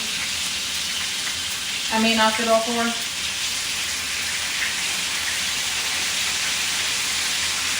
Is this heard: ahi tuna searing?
yes